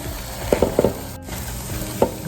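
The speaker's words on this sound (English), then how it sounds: "This is also how you cook a perfect scrambled egg" Eggs scrambling in a hot frying pan for fried rice, with a continuous sizzle broken by several sharp spatula taps and scrapes against the pan, close by and without speech.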